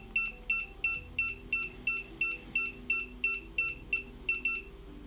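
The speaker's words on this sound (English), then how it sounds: "So if I hold this button down now to make the aircraft beep" A DJI Mini 5 Pro drone repeats a high electronic double beep about a dozen times at a steady, quick rhythm while pairing with its controller, fairly close and clear over a faint background hum.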